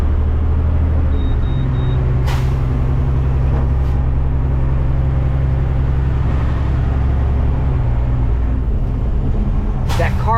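A garbage truck engine idles and labors through a tight turn to pick up a dumpster, a loud, steady diesel drone with low harmonic rumble and a few brief air hiss bursts.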